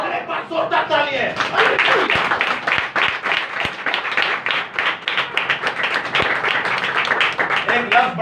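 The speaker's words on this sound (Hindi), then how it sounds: "एक बार जोरदार तालियां।" A church congregation claps loudly at a Christian sermon, with sharp individual claps standing out in a dense, sustained round. Voices can be heard mixed in, and some laughter.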